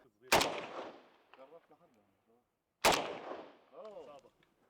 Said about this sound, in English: as I'm going to pick this bottle up so that we can shoot it again